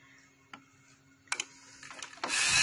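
A sewing machine stitches fabric for ladies' bloomer pants, with a few short clicks early on, then a brief run of stitching bursts and a louder, steady whirring burst at the end, close and without talk.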